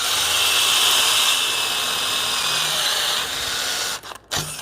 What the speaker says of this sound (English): I'm using the smaller Forstner bit